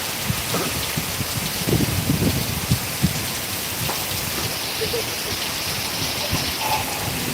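Steady heavy rain hisses down close by in Vallioor, India, with scattered drips and patters and faint voices underneath.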